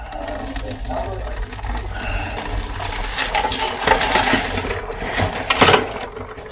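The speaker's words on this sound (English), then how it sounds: "Alright, I'm just gonna dump this all in. It's all gray and slurry here." Gray tumbled rocks and slurry are dumped out during third-stage rock tumbling, a steady wet clattering rush of stones and grit with a louder splash and rattle near the end, close and continuous.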